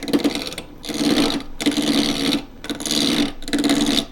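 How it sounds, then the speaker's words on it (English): A half-inch spindle gouge cuts a wooden ladle blank on a lathe, giving a steady rasping, rushing shear in four long passes broken by short pauses, close and loud with no talk. "I'm going to do this with a gouge. This is a 1/2 inch spindle gouge."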